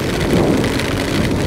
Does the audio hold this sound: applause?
no